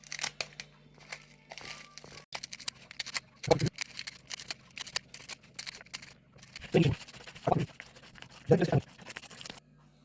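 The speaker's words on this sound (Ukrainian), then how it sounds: "Нарізаємо на ось такі маленькі смужечки." Sheets of nori cut into small strips with scissors or a knife, brief crisp snips and crinkles over rustling. A voice speaks briefly. A kitchen setting where a sushi cake is being made.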